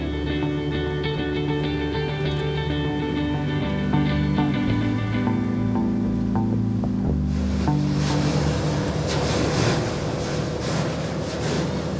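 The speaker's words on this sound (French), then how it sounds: "Ça, c'est le son du bateau qui fend la glace." Sturdy boat breaking through Arctic sea ice off northern Norway: a steady droning engine hum, then a loud, harsh crunching wash of ice and water breaking that swells in over the last seconds, with no talking.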